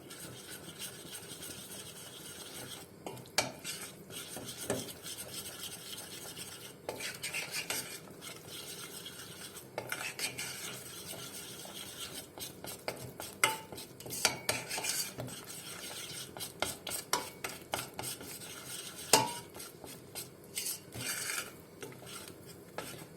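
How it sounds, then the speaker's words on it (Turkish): Flour is stirred continuously as it roasts in a pot for Turkish milk pudding, producing steady scraping and scratching of a spoon against the pot with occasional clinks, close and moderately quiet, with no talking. "Sürekli karıştırarak 4-5 dakika yakmadan kavuruyoruz."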